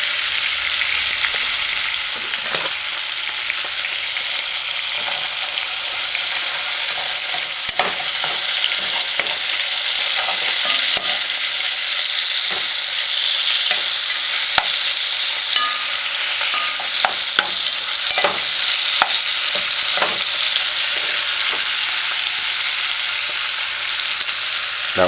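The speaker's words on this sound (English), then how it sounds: "So just allow it to fry on one side." Ackee and bacon fry in a pan on a stove with a loud, steady, hissing sizzle that goes on the whole time, broken by small crackles and pops, with no talk over it.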